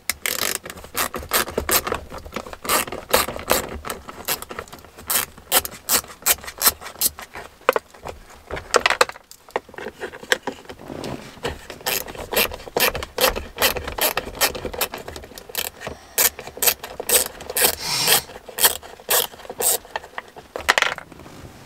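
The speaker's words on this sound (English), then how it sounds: "So let's go ahead and get our 10 and start removing these bolts." Ratcheting and clinking of a 10 mm wrench loosening two bolts on a Subaru STI, a dense, steady run of sharp metallic clicks and scrapes, close and fairly loud, with a brief pause midway and no talking.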